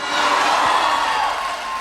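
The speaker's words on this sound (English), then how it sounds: "A round of applause for all our teachers" A dense crowd cheers and applauds teachers at a college business festival, a steady wash of noise with no individual claps standing out and no talk over it.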